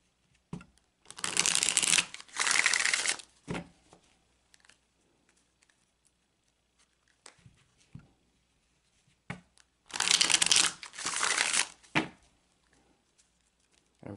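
Tarot cards being shuffled by hand in two bursts, each a loud, close riffle of rapid papery flicks lasting a couple of seconds, separated by a quiet stretch with occasional faint taps and card handling.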